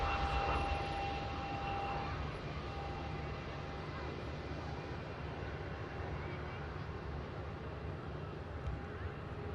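Airbus A319 airliner jet engines at Manchester Airport, a steady broad roar holding near-constant loudness throughout, with a faint whine running over the top.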